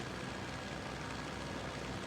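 Steady propeller airplane engine drone from the Free Fire video game, a continuous broadband hum held at an even level with no breaks throughout.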